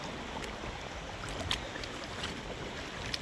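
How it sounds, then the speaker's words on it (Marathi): Footsteps wading through water outdoors, a soft continuous wash of moving water with faint splashes, quiet and diffuse, with no talking. "पाण्यातून चालले ना मोबाईल बी पकडता येत नाही"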